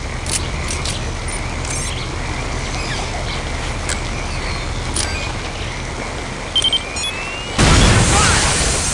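A loud, sudden blast of bombed equipment going off in the video game Condition Zero, a broadband burst near the end that follows a stretch of steady ambient game noise with faint scattered chirps.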